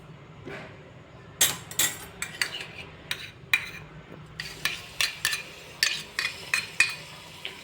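Ginger, chili and garlic paste sautéed in a pan, with a metal spoon clinking and scraping against it in a quick irregular series of sharp taps over a faint sizzle, close and without speech.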